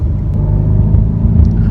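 A passing car, a loud, close, steady engine rumble with a slight rise in revs over a brief moment, no talking.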